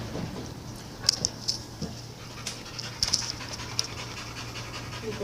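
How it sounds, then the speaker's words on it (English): A puppy pants quickly and lets out several high, thin whimpers in short bursts, close and fairly quiet, with no talking over it. "He's gonna be a nice puppy."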